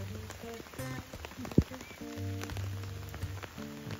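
Rain pattering on the leaves of cherry trees in an orchard, with frogs croaking close by and one sharp knock partway through, and no talking.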